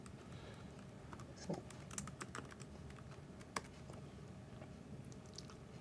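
Computer keyboard typing while entering terminal commands at a tech meetup, a quiet run of light irregular key clicks with a few sharper taps.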